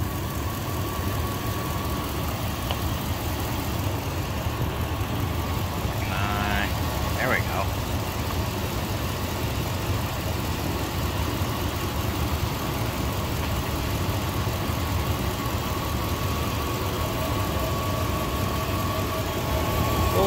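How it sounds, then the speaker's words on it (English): A 1999 Dodge Durango SLT, left sitting for 14 years, idles with a steady low rumble and a faint ticking valve train clatter, running continuously close by with brief speech over it. "I think that's valve train noise I'm hearing and not exhaust manifold leak"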